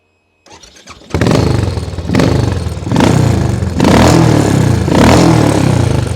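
A motorbike that had been a non-runner starts on its electric starter: a brief whir of cranking, then the engine catches and settles into a loud, clattery idle, rising in waves of revving close by.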